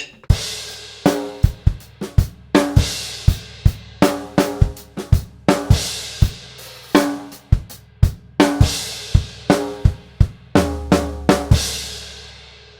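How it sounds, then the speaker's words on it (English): A drum kit plays section D of a Trinity College London Grade 3 piece, a dense run of crisp snare and tom hits in varied rhythms with cymbal wash and low kick accents, close and unaccompanied. "so the whole line, the whole of section D, sounds like this"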